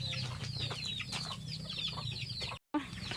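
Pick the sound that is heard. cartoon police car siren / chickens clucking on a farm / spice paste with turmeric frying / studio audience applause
chickens clucking on a farm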